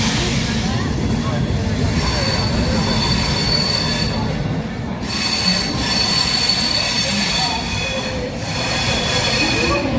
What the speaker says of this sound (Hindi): अपनी ट्रेन पहुंच चुकी है देश की राजधानी नई दिल्ली